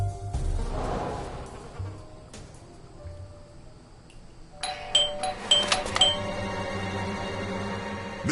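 A doorbell chimes in the detective video game Blues and Bullets, with a few bright metallic ringing tones near the end following quieter rustling and footsteps, moderately loud and close, with no talking.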